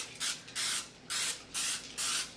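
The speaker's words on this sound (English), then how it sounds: "I'm just giving it a spray" Five short hissing bursts of cooking spray greasing a pan in a steady rhythm, close and crisp, with brief pauses between each squirt.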